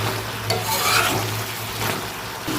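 Water is poured into a hot pan of cauliflower, potato and prawn curry, raising a loud bubbling sizzle with a soft stirring scrape, close and alone.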